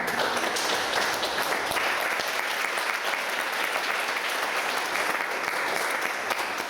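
A church congregation at a Sunday worship service breaks into warm, steady applause, many hands clapping evenly from a moderate distance with no talking over it.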